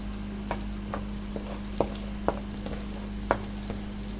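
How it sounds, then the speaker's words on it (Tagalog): Garlic frying in melted margarine and oil, giving a steady low sizzle with a constant hum underneath and a few sharp pops and stirring clicks scattered through it, with no talking. "hayaan lang muna natin na ma-fry at lumabas ang aroma ng garlic"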